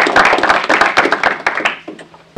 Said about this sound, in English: So I'd like to ask you to all give,